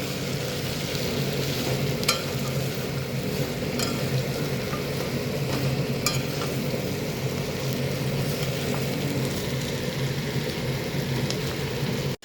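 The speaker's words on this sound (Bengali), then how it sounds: "এবার এখানে ভাজা হচ্ছে পেঁয়াজ" Onions frying in a pan for a home lunch, with a steady dense sizzle and occasional stirring scrapes running throughout at an even, close level, no voices.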